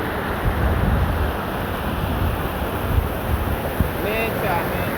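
A flooded river rushes past the bank in a continuous broad roar, with wind buffeting close by and faint voices murmuring beneath the water noise.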